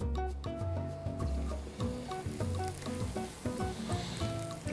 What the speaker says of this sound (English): I'll put the fish in there, the oil temperature will drop down.